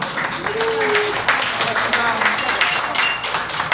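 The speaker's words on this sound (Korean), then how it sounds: "박수 한번 주세요." Audience applause at a disability association's choral festival celebration in Incheon, a steady broadband clapping wash sustained through the whole stretch, fairly loud and close, with a brief voice rising over it near the start.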